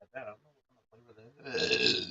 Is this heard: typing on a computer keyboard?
no